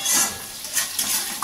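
Oil sizzles and crackles in a kadai on a gas flame in a home kitchen while something fries, with light stirring and faint utensil clinks.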